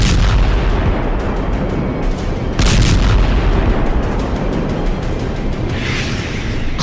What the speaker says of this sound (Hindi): एक के बाद एक कम से कम 3 मिसाइलों ने खार्किव के एक रिहाई वाले इलाके को भस्म